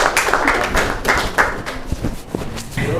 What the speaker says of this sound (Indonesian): Kita beri tepuk tangan kepada semua teman-teman yang sudah memberikan jawabannya.